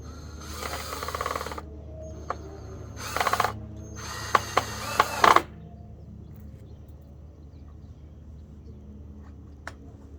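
Screws being driven into a DIY fishing line spooler, heard as short bursts of clicking, ratcheting driver work separated by quiet pauses, moderately close.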